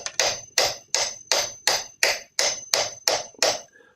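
A hammer taps a screw in, nine sharp metallic blows close by in an even rhythm of about two per second, with no talking.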